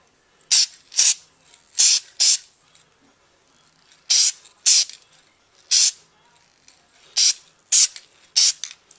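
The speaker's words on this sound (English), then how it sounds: "I'm going to go ahead and spray some light coats onto that" A spray paint can hisses out in short, sharp bursts, usually in pairs, with brief quiet gaps between each light coat applied onto a stencil on glass.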